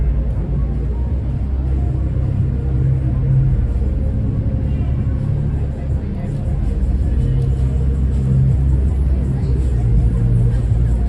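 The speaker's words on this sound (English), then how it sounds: "You have a lot of traffic backed up going into Times Square." Heavy traffic backed up on the way into Times Square in Midtown Manhattan, New York City, on a Saturday night, a steady low engine rumble holding throughout with voices talking over it.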